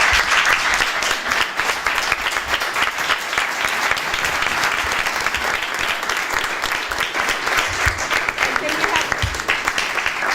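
A large crowd at a panel discussion applauds steadily and loudly throughout, with a few voices faintly audible beneath the clapping.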